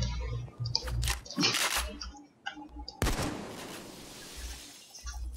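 Glass shatters during a Payday 2 heist, several sharp crashing breaks and crunches, close and loud, with a large burst near the middle and the tinkling decaying afterward.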